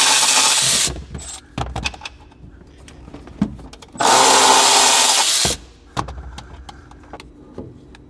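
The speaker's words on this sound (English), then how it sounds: "should be able to get it with a battery ratchet. Just kind of get it loose" Battery ratchet on a Honda Acty HA7 during a lift kit install loosening a bolt: two loud buzzing whirs, about a second and then over a second long, with clanks and handling noises of the tool between them.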